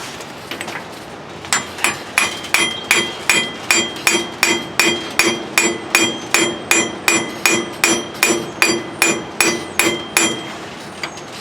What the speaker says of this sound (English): by tapping on that slightly with a hammer